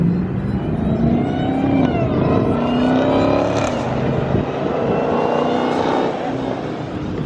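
A Dodge Hellcat accelerates past nearby, a loud swelling engine roar with rising revs that peaks and fades as it goes by.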